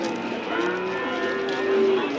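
A cow gives a long, low moo close by at a livestock market in Shahrikhan, Andijan, steady and sustained against a faint background murmur.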